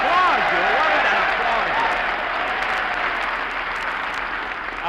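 Studio audience applauding at a Marine Corps birthday celebration show at Marine Corps Air Station Mojave, California; a steady, loud wash of clapping that holds for the whole stretch with voices mixed in beneath it.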